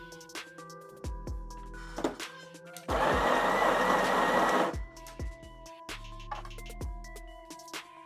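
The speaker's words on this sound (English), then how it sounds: "I'll grind my coffee." Espresso coffee beans ground in a coffee grinder, a loud dense whir lasting about two seconds, framed by machine hum, clicks and knocks of handling before and after.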